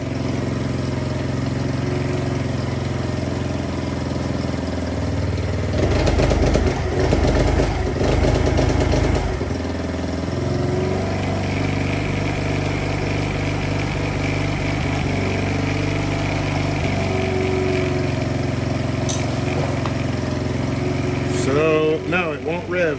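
Polaris Outlaw 50 ATV engine idling steadily with a buzzing drone, a rattling burst of mechanical noise partway through but no rise in revs, while a person talks over it.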